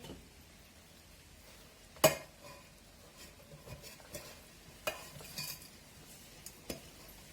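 Peanuts are dropped into a mixer grinder jar, giving a few faint, scattered clinks and rattles against the jar over quiet background, with no speech.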